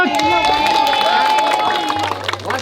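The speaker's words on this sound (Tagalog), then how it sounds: "Palakpak!" An audience claps and cheers after a magician's act, giving a dense burst of applause and excited voices close by.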